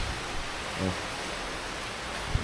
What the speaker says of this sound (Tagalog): Nasa ulan pa rin, hindi pa rin nagpapatinag ang ulan ba?